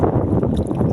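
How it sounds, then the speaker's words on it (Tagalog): Strong wind at sea roars steadily against the microphone on a small fishing boat, with water sloshing underneath. It is loud and unbroken for a brief moment. "malakas pa rin ang hangin"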